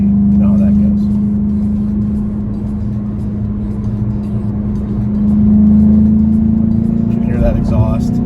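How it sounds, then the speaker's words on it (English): A 2021 Volkswagen Jetta GLI S with a six-speed manual gearbox accelerates onto a highway, its exhaust and intake producing a steady, loud engine drone that swells in pitch partway through, with a voice talking over it. "You can hear that exhaust, the intake."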